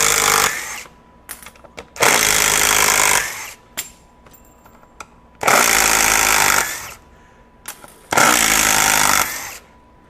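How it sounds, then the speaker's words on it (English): A RIDGID 18V SubCompact impact driver backs a screw out of thin sheet metal in several loud, rattling bursts of hammering, each lasting about one to one and a half seconds, with short pauses between them. "Now backing out, it's going to give me full power."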